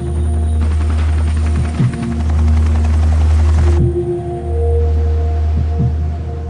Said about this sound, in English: Came in via Chinooks, some pretty sort of intense manoeuvring